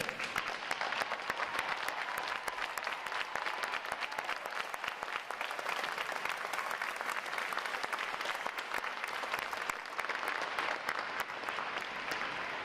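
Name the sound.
audience applause for veterans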